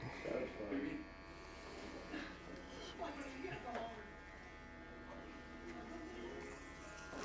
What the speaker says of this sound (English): the more I lift the clipper off the head like that